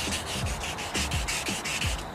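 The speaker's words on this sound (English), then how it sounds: "if you've been sanding for a while" Steady rasping sandpaper strokes scrubbing back and forth over cracked, flaking car paint, close and continuous with a regular rhythm.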